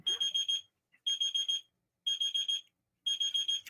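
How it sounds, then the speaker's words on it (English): An auction countdown timer gives four quick bursts of high electronic beeps, each a rapid cluster of short tones, evenly spaced about a second apart and loud against silence. "it's not over till the 5 beeps are up"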